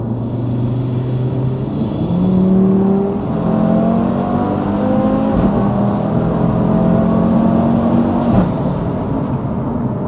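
An automatic Audi RS3 8V facelift fitted with a CTS Turbo intake, downpipe and Audi Sport exhaust revs up close and loud, its engine note climbing and holding in steady, sustained pulls with intake whoosh and no talking.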